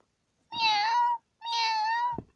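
A cat gives two clear, close meows, each about a second long, separated by a short pause.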